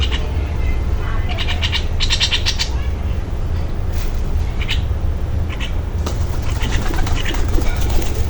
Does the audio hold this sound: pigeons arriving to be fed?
yes